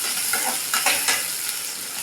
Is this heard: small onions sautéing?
yes